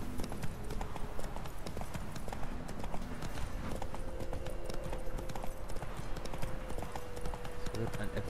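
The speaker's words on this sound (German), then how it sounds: "Wir müssen ein wenig durch den Sumpf reiten." Horse hooves clip-clopping in a steady trot while riding through a swamp in the video game The Witcher 3, close and continuous beneath faint game ambience and a low tonal hum.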